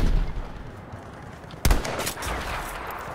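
A single sharp, loud M1 Garand rifle shot in Battlefield 5, cracking out mid-clip over low battlefield ambience and trailing into a short echoing decay.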